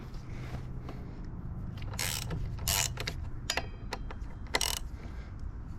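Ratchet wrench loosening the front wheel clamp bolts on a Honda CBR650R motorcycle: a steady mechanical clicking under a low hum, broken by several short, bright bursts of ratcheting close by.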